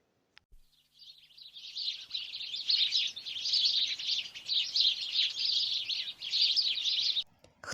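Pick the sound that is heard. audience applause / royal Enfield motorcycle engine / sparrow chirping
sparrow chirping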